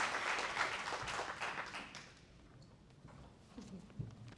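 An audience at an annual awards ceremony applauds its honourees, a dense wash of clapping that swells at first and then thins to scattered claps, heard from within the crowd.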